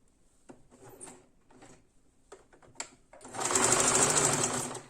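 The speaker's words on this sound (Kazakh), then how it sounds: "Кері қарай, артқа қарай тігіп отырмыз ғой, өйткені сондықтан түгі жоғары қарай тігіледі" Quilt patchwork being stitched on a sewing machine: a few soft knocks and handling clicks lead into a steady, close, whirring run of stitching toward the end.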